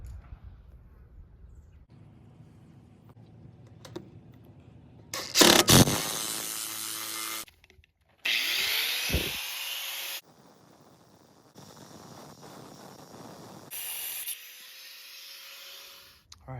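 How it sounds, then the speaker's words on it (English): Bursts of power-tool whine, a drill spinning up and stopping several times with short pauses between while drilling and driving lag bolts into a workbench, close by, with some clanking and rubbing in between. "I'll go ahead and drill it and stick it in with lag bolts."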